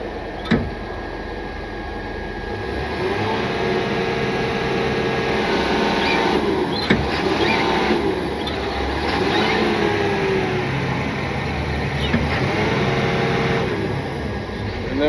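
Engine of a piece of heavy equipment at an auction, held at a steady idle and rising gently when the throttle pedal is worked, a continuous near drone with small clicks and no sharp revs.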